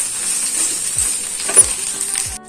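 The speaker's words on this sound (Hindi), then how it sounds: "अपनी कटी हुई अरबी डाल देते हैं। गैस को हमें लो रखना है और इसे मिक्स कर लेना है।" Chopped taro root (arbi) sizzles steadily in a pan over a low flame, with a few soft scraping stirs and light clinks from the spoon.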